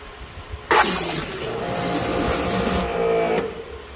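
A bottle of CarPro car soap is shaken hard, giving a loud, continuous sloshing rattle of liquid lasting a few seconds, then stopping abruptly.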